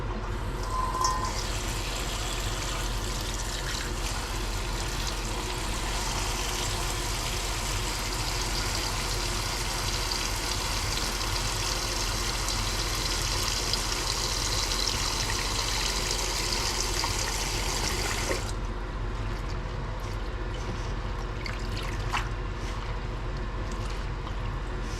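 Water pours steadily into a pot during ramen cooking with beef and bok choy, a continuous close trickling rush for most of the stretch, then it stops and faint kitchen clinks follow.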